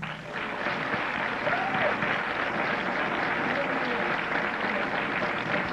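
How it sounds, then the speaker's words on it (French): Audience at a 1987 evangelical crusade in Haiti applauding, a steady wash of clapping that holds at an even level throughout with some crowd murmur mixed in. "On applaudit Jésus, s'il vous plaît."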